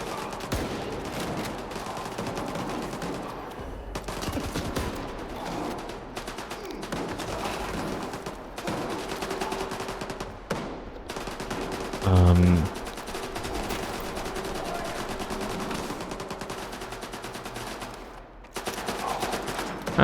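Gunfire in S.T.A.L.K.E.R. 2 over a constant busy game soundscape, with one heavy, booming shotgun-like blast standing out midway and other scattered shots beneath.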